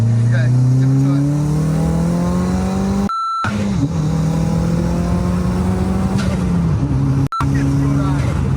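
A modified car fitted with new injectors and a new turbo accelerating hard, its engine note climbing loudly through the gears with a brief gap at a shift, heard close from inside the cabin.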